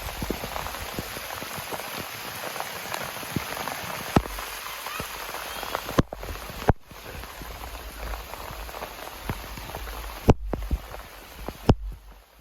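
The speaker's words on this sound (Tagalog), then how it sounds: "Lakas ng ulan." Heavy rain pours steadily outdoors, a dense broadband hiss with scattered sharp drop impacts and a few louder knocks, close and continuous throughout with no talking.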